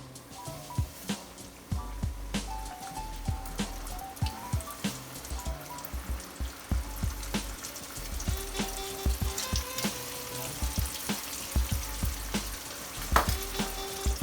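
Flour-dredged battered fish sizzles and bubbles in hot frying oil, a busy crackling fry with scattered pops and spits, close and steady throughout.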